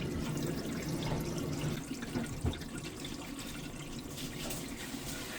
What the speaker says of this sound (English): Then turn on the water and check for leaks.